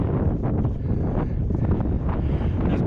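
Wind roars across the Snake Pass summit on a hilltop, a steady, close, low rumbling buffet against the microphone with no other sounds.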